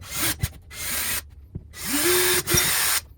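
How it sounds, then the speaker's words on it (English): Power drill with a large bit boring holes into a wall to mount a heater, two whirring bursts with rising motor pitch, separated by brief pauses, close and loud with no talking. "first we would drill those holes"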